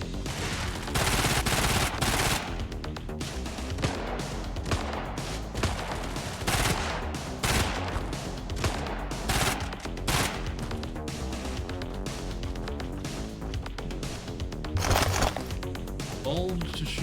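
Gunfire in the isometric mech game Brigador: loud, sharp bursts of shots repeat irregularly throughout, mixed with a continuous battle din while a player talks over it.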